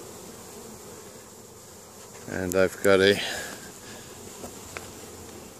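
Honey bees buzzing around a hive entrance in a spring bee yard, with a faint steady hum under a man's short spoken phrase that sits in the middle.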